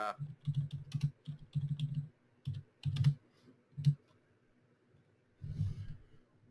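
Typing on a computer keyboard during a website and app marketing webinar, heard as bursts of close keystroke clicks in short uneven runs, separated by pauses and ending with a final flurry.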